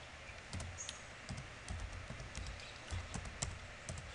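Quick taps on a computer keyboard as an email address is entered, a light irregular run of close clicks in a quiet room.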